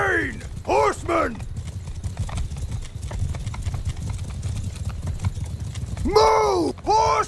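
Steady galloping hoofbeats rumble throughout, with horses whinnying loudly at the start and again near the end over the thundering cavalry charge in a large battle in the video game Bannerlord.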